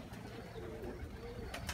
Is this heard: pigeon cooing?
yes